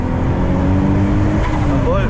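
A VW Bora V6 turbo (GT35) pulls hard through the gears, its engine droning loudly from inside the car with a rising note near the end, while someone talks over it.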